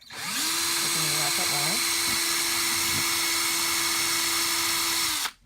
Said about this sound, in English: just being careful to drill high speed so that you don't, the plastic can crack